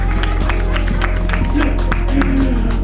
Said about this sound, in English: Come on, you can clap, yeah, please.